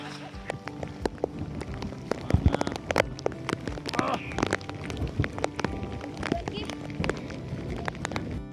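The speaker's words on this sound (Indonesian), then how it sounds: "Hujannya makin deras." Heavy rain pours on a mountain campsite on Mount Sindoro in Central Java, a dense steady patter with scattered sharper drips and knocks, as people talk underneath.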